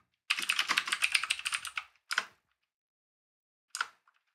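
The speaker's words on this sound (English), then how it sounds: "And I can tab to the next item." Keys on a computer keyboard clatter in a quick run of close, crisp clicks, followed by two isolated single keypresses, one of them the Tab key, separated by silence.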